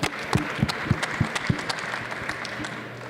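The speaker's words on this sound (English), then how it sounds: "I want to give them a round of applause real quick." A short burst of audience clapping at a car wash trade show, a modest crowd applauding for a few seconds with sharp, uneven claps.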